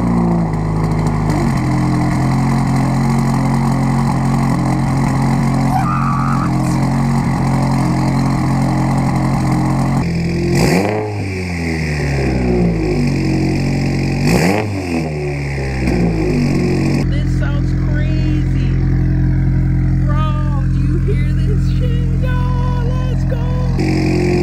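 A car with an aftermarket exhaust cold-starts and settles into a loud, steady idle, broken by several sharp throttle blips that rise and fall quickly before it drops back to a rumbling idle, close to the microphone.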